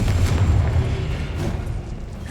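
A Confringo blasting spell goes off in Hogwarts Legacy, giving a loud, low rumbling boom that rolls on steadily for a couple of seconds with a dense, continuous roar.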